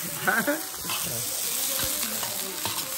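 Onions fry in a pan for a Réunion-style creole sauce, giving a steady close sizzle under a speaking voice.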